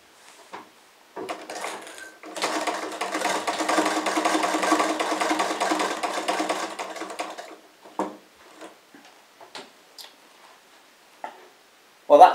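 A sewing machine stitching leather for a tractor cushion runs in one continuous burst of several seconds, with brief clicks and handling noises before and after, fairly close.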